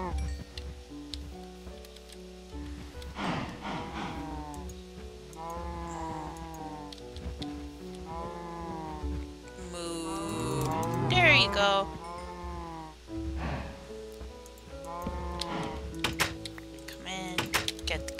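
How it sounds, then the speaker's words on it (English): Several cows moo repeatedly in a video game, overlapping calls that grow louder and busier midway, with a faint voice speaking in the background. "Okay, cows. You are a little too loud."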